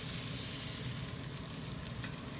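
Burger patty sizzling in a frying pan, a steady close hissing crackle with faint stirring or scraping, no talking.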